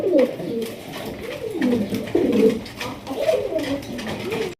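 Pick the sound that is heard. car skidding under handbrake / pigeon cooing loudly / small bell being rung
pigeon cooing loudly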